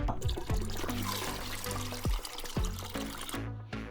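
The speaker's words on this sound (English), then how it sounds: "Let's pour that off to the side." Liquid caramel from braised pork belly pours steadily close by, a continuous wet trickle with small splashy pulses, ending in a brief quiet moment.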